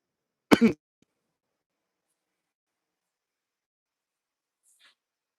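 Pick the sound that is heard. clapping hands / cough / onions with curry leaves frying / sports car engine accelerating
cough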